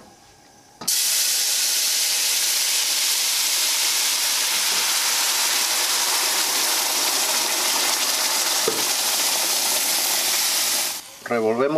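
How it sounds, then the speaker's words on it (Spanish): Sauce for shrimp pasta poured into a hot pan, setting off a sudden loud, steady sizzling hiss that holds for about ten seconds before cutting out, with a voice briefly heard at the end. "Agregamos nuestra salsa."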